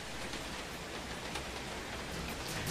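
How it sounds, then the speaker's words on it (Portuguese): Rain falling outdoors, a dense steady hiss of drops on surfaces, continuous and fairly loud with no talk over it. "parece que a chuva começou a cair agora, né?"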